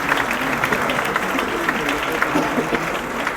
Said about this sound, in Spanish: despidámoslos con un fuerte aplauso